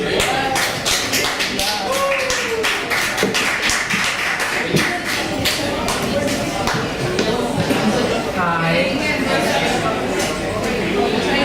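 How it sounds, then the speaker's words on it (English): Crowd at a Fight Night event applauding a performer named Jocelyn, steady clapping and tapping filling the room throughout, with voices talking over it. "A big round of applause"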